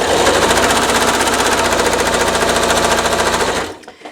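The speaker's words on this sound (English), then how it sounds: "I'm going to be sewing a 1/4 inch seam" A sewing machine stitches a quarter inch seam on a churn dash quilt block, a loud, close, rapid even chatter of needle strokes that runs steadily and then stops abruptly near the end.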